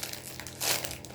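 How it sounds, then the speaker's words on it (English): An aluminum foil bag crinkles as it is handled, a short soft burst of rustling that swells briefly in the middle, quiet and close with no speech over it. "it comes in an aluminum foil bag for protection purposes"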